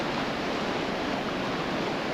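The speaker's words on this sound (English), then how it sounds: "the water pouring over that ledge right there and falling back on itself is creating a hole or a hydraulic" Whitewater rapids in the New River Gorge, with river water pouring over a ledge and churning back on itself into a hydraulic, a steady, loud broadband roar with no break.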